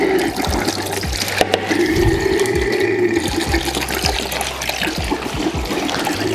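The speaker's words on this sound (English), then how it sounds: "first job I want to do is drain the coolant" Coolant draining from the pipes of a race bike, a continuous trickling and splashing of liquid up close, with small knocks and handling sounds throughout.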